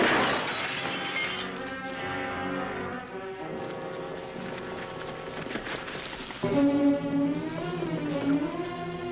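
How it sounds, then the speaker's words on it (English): Glass from a lamp shattering after a gunshot, heard as a bright crash that trails into tinkling fragments in an old western scene, followed by strained, shifting musical tones. "just fine glass when he shot the lamp"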